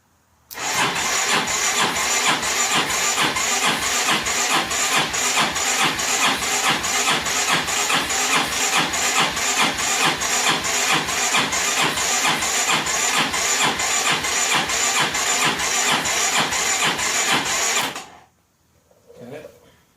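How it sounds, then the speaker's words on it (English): Starter motor of a 2002 Honda Reflex scooter cranking over without firing, a loud, rapid, even chugging rhythm held for about seventeen seconds before it stops abruptly, followed by a brief faint noise. "Cranky, no fire."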